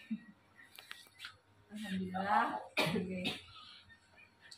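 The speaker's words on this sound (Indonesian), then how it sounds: "Batuk semua ini." Several harsh coughs from a few people at a junior high school gathering, one burst after another, fairly close, with faint murmuring around them.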